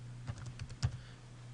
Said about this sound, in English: So here I can type in L,